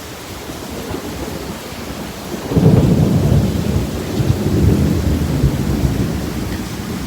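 Thunderstorm in Houston: heavy rain hisses steadily while a deep roll of thunder swells in partway through and rumbles on, loud and close, with no voices.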